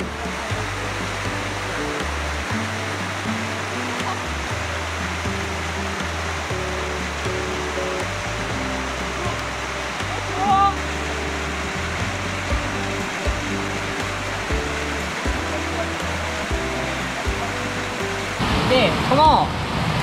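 A mountain stream rushes steadily beside a hiking trail in a forested valley, a continuous loud broadband wash of flowing water filling the whole stretch, with faint brief sounds near the end.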